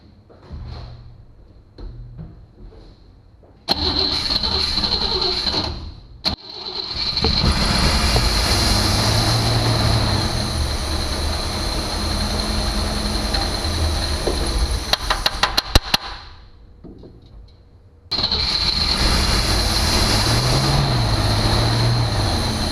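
A flooded 1958 Cadillac engine that hasn't run in years cranks over without catching, a loud, steady churning for about fourteen seconds that then cuts off, with another burst of cranking starting near the end.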